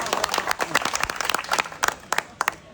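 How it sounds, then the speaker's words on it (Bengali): An audience at a street magic show bursts into uneven clapping, many hands slapping at once in a dense, crackling patter that thins into a few sharp, scattered claps, loud and close. "এটা তালি মারেন"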